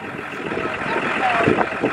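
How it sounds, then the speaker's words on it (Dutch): Tour buses idle, ready to depart, giving a steady close engine rumble with faint background voices. "De bussen staan klaar om te gaan."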